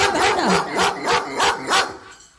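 A dog barks loudly and close in a rhythmic series of about five or six sharp barks, evenly spaced, with no talking over it.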